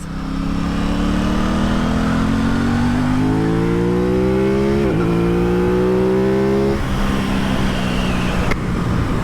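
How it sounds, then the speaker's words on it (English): A 2021 Aprilia RS660 motorcycle's engine and exhaust roar loudly and close as it accelerates, pitch climbing through several gear changes with brief dips between them, with no talking. "It's got really nice sort of low down grumble and burble as well when you're at sort of low revs."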